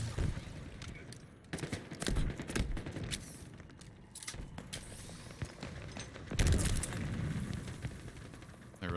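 Grenade explosions in the video game Halo MCC during a Big Team Battle match, several sharp blasts and bursts of gunfire scattered through busy game noise, with the heaviest explosion late on and a player talking intermittently.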